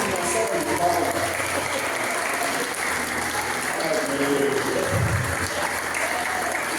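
A church congregation applauds steadily for a pastor's anniversary of consecration, a full sustained wash of clapping from many people filling the room, with speech faintly beneath it.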